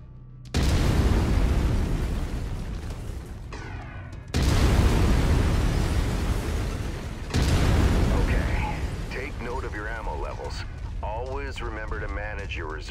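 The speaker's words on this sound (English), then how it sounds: "I've mapped the autocannon to weapon group one. You're free to fire whenever you're ready." Autocannon in the MechWarrior 5: Mercenaries video game on Xbox One S, three loud, heavy booming shots spaced a few seconds apart, each trailing a long rumble, with a voice speaking near the end.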